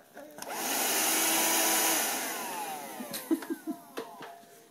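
A Shark vacuum cleaner whirs steadily for about two seconds, then winds down with a falling pitch, followed by a few faint clicks and knocks.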